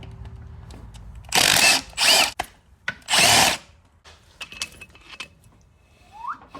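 A power tool spins against the CV axle bolts of a VW Mk5, three loud buzzing bursts close up, followed by quieter metallic clinks and tool handling.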